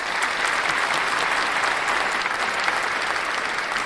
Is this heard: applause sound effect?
yes